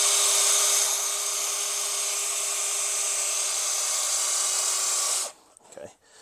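A loud, steady power drill whines continuously for about five seconds while drilling metal brake parts, then cuts off abruptly, leaving brief faint handling noises.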